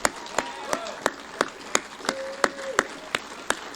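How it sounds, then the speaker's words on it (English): Applause for six candidates at a South Carolina Libertarian Party event, heard as sparse, evenly spaced claps from a small group, roughly three per second and fairly close, over a faint background hum. "Let's give a round of applause to all 6 candidates here tonight."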